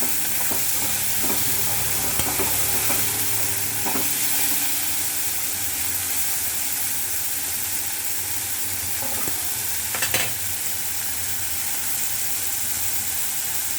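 Chopped onions and green chillies frying in a generous amount of oil give off a steady, close hiss, with scattered stirring clicks and scrapes in the first few seconds and again near the end.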